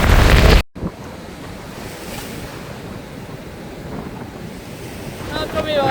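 Ocean surf rolling onto a cold, windy beach near a lagoon on the Tsitsikamma coast, a steady broad wash of breaking waves with wind buffeting the microphone after a brief loud burst at the start.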